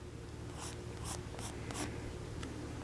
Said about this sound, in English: Get your pad of paper and just start sketching some figures